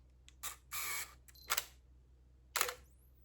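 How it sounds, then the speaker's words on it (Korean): A single-lens reflex camera firing its shutter with flash, several crisp mechanical clicks and a short whirring burst, then another click about a second later, close and clear over a quiet background. "셔터가 열리면서 사진이 찍히기 시작하면서 먼저 플래시가 터지는데요"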